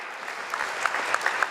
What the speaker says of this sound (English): let us get a big round of applause